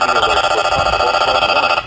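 A weather radio alert tone rings out loud and close, a bright warbling electronic signal held steadily before cutting off abruptly near the end.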